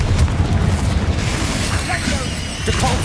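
Explosive Confringo spell in Hogwarts Legacy: a deep, rumbling boom with crackling debris, loud and sustained for about three seconds, with a few faint magical whistles on top.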